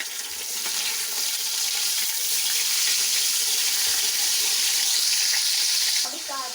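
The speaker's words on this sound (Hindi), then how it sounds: "ये देखिए लहसुन और अदरक इसके साथ ये फ्राई किया है 20 से 30 सेकंड के लिए।" Garlic-ginger paste frying with browned onions in a pan, giving a loud, continuous hissing sizzle up close that holds steady for several seconds before cutting off sharply.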